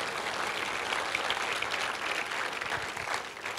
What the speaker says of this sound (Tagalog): Sige po, malakas po na palakpak sa Panginoon.